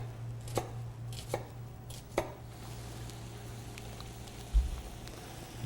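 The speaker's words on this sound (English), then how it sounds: "I'm going to cut just a little more shallot to add to the sauce." A knife chops shallot on a cutting board with three distinct thuds spaced about a second apart, then a softer knock, all fairly quiet over a low steady hum.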